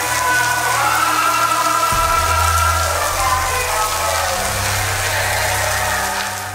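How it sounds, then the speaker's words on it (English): Pouring rain hisses loudly and steadily at the Korean demilitarized zone, a dense wash of drops while low, droning propaganda music blares faintly underneath. "In the pouring rain, propaganda music blares out."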